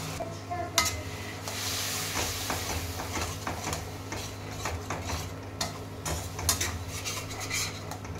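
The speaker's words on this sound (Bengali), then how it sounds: "এবার একটু জল দিয়ে দেবো। জল দিয়ে মশলাটা একটু কষিয়ে নেব।" Spice paste of turmeric and cumin powder cooking with water in a pan for a mustard-oil fish curry, with steady sizzling and repeated stirring, scraping and clinking of a utensil against the pan, close and continuous.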